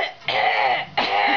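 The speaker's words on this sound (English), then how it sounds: "Ooh, you get to cough." Two harsh, close coughs during nebulizer breathing therapy, the first longer and the second following a short pause, with no talking.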